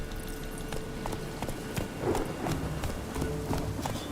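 Horse hooves gallop in The Witcher 3, a steady clip-clop rhythm of fairly close, even-paced hoofbeats running throughout with faint ambient game sound beneath.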